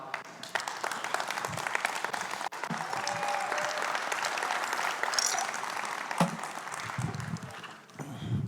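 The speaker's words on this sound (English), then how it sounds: "So once again, applause for Vladi." Audience applause after a cryptocurrency white paper presentation: a sustained wash of many hands clapping at moderate volume, with a few low murmurs and a short dip partway through before it swells again.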